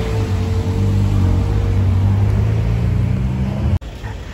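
A Ferrari 812 GTS rumbles loudly close by in Monaco, a steady deep engine drone that holds for several seconds before cutting off abruptly near the end, with no talk.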